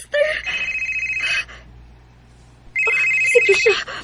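A cellphone rings with two loud electronic ringtone bursts, each about a second long, separated by a brief pause, with faint voices at the end.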